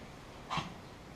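A dog gags once in a workshop, a short, harsh retch in the middle of an otherwise quiet moment, with no talking.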